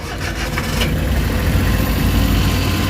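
A Suzuki DA64W turbo engine idles steadily up close, a smooth low rumble holding an even level throughout with no talking.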